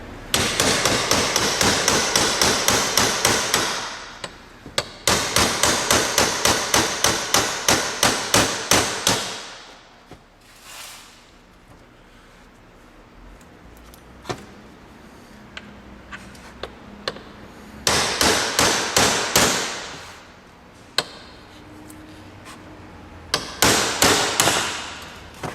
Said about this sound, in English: It's just going to be harder because I'm doing it with a hammer and chisel.